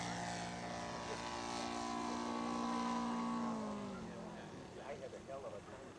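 A quarter-scale model airplane makes a flying pass at a scale aircraft show, its propeller engine droning loudly and then dropping in pitch as it passes by, with a voice talking over the sound.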